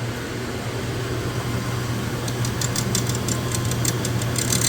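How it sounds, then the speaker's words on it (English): Highland Park lapidary shaping machine with grinding wheels working a cabochon blank, giving a steady low motor hum with continuous grinding noise and faint rhythmic high ticking toward the end. "wheels grinding this out, which means less wear and tear on the grinding wheels"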